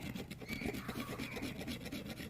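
Quiet, rapid rasping of a pocket knife blade scraping across wood in short repeated strokes, close up and steady.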